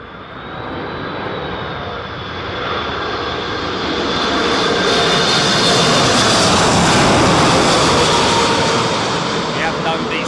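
An airliner lands at Heathrow in the strong winds of Storm Isha, its engine roar loud and broad, swelling steadily as it nears and holding at full strength.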